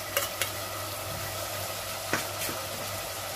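Masala paste sizzling and frying in a pan for rajma curry, a steady low hiss with a few sharp clinks of a stirring spoon against the vessel, close and fairly quiet.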